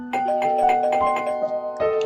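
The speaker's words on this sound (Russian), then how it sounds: "раздался дверной звонок" A chiming doorbell rings in the Tiny Bunny horror video game, a sustained melodic ding-dong with a second chime near the end, clear and alone.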